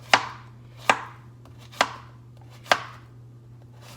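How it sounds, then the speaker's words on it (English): A knife chops through zucchini into round slices on a cutting board, five sharp, evenly spaced cuts about a second apart, close and clear over a steady low hum. "I washed my zucchini. I'm just gonna start cutting it."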